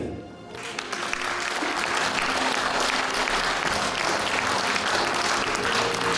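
A concert audience in Moscow breaks into applause for a performer. The clapping swells quickly after a quiet start and then holds as loud, sustained applause from a large crowd.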